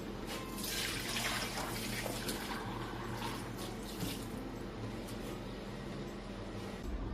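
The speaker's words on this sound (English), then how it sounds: "Now we're straining the milk." Milk poured through a strainer for a lasagne white sauce, a steady liquid trickle and splash into a container, close and continuous for the whole stretch with no talking.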